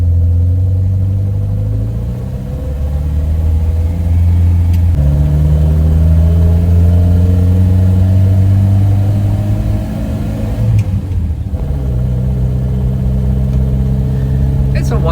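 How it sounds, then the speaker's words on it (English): A 1955 Standard Super Eight saloon with an 800cc four-cylinder engine drives on the road on a hot day, its steady low engine drone rising and falling through gear changes. "It's not a fast car, an 800cc four-cylinder engine's never going to break any land speed records, but it's nippy enough"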